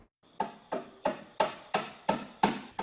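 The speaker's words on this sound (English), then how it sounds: "The sound of a hammer hitting a nail" A hammer striking a nail at a store construction site in Rabbit Hash, eight evenly spaced, fairly loud blows in a steady rhythm, each ringing briefly before the next.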